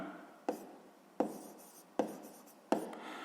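Pen writing on paper while working a sixth-grade math exercise, four short close scratching strokes at a steady rhythm, each decaying quickly, with no talking.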